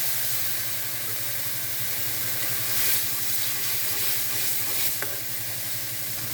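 Tomatoes, peppercorns and ginger paste fry in a pan for okra, giving a steady close sizzle with stirring scrapes throughout and one sharp clink near the end, with no talk.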